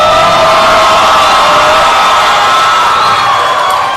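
A crowd at a Muay Thai championship bout in Texas roars and cheers loudly and steadily, a dense continuous wall of voices with whoops and yells, no single voice standing out.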